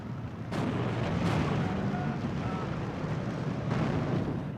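Long Tom artillery firing counter-battery shots in the wargame Steel Division 2: a few heavy, rumbling booms roll out over a constant battle din, with a voice talking faintly underneath.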